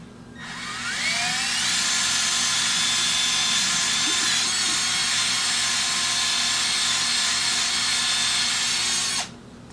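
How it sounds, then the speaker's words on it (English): A high-pitched drill polishing metal with hard green polishing compound whines continuously at steady speed for several seconds, loud and close, then winds down. "Using some like old school hard green metal polishing compound with the drill."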